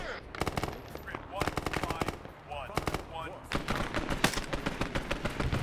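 Rapid bursts of RPD machine gun fire in the Vietnam War game SOG on the Ground, loud and close, coming in several sustained strings with short gaps, with someone talking over parts of it.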